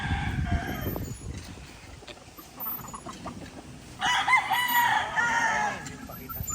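Hens cluck and a rooster crows in a backyard flock of fighting-cock breeding stock, the crow rising loudly near the end, with other birds and low background noise throughout.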